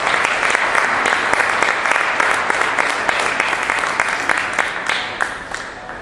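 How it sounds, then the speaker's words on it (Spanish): A church congregation claps loudly during a Spanish-language worship service, with brisk, dense applause and a few sharper individual claps standing out, steady from start to finish. "Dale un fuerte aplauso al Señor."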